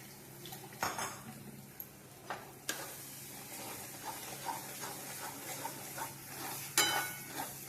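Ground masala frying in a pan for a dried prawn curry, with a metal spoon scraping and clinking against the pan in irregular strokes under a faint sizzle, quiet and close.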